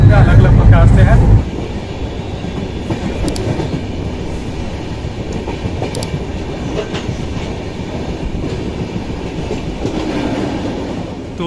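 A passenger train runs on rails between Samastipur and Barauni, a loud steady rumble with wheel clatter heard from inside, after a brief louder burst at the start.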